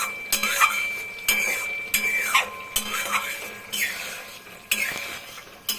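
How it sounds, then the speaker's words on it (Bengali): A metal spoon stirs and scrapes a spice paste of cumin, coriander and ginger frying in a pan for egg curry, repeated clinking strokes every second or so over a soft sizzle. "মশলাটা অনেক কষাতে হবে, মানে জিরে, ধনে, আদার এটা একটা কাঁচা গন্ধ থাকবে"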